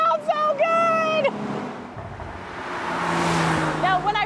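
A 2016 Porsche Boxster Spyder engine revs up through several loud, rising gear pulls, drops to a rushing coast, then climbs again as it accelerates through turns; someone speaks briefly.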